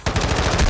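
Rapid automatic fire from a video game gun fitted with a side laser, a dense burst of close, loud shots in a quick, even rhythm.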